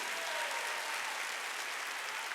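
A church congregation applauds during a Korean sermon: a dense, steady wash of many hands clapping together, sustained and even throughout with no pause.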